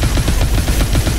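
Rapid turret machine-gun fire from Call of Duty: Advanced Warfare, a loud, close, continuous burst of evenly spaced shots.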